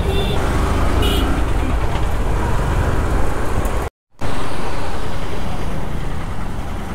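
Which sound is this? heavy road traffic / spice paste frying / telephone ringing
heavy road traffic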